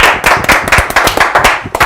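A studio audience clapping on a live talk show, a quick burst of loud, close handclaps lasting under two seconds.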